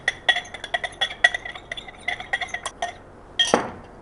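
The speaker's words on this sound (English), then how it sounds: "keep on stirring the liquid" A glass rod stirs copper sulphate solution in a glass beaker, giving a steady series of light, bright clinks and taps against the glass with one louder knock near the end. No voices.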